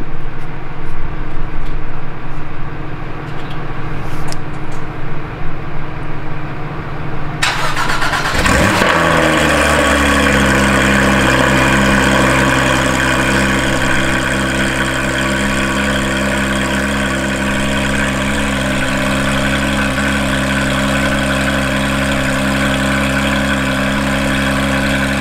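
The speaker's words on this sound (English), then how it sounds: "That was the first startup with the Sharkworks bypass" A 2019 Porsche 911 GT3 RS fitted with a Sharkworks bypass center muffler delete cranks and fires up about eight seconds in, flaring loudly before settling into a steady, rich idle with no talking.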